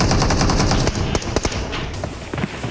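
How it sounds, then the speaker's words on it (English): An M60 machine gun fires in the mobile battle-royale game PUBG Mobile, a loud, rapid stream of close shots that thins into scattered bursts near the end, with no talk. "The M60. Ragnar's just sending it, dude."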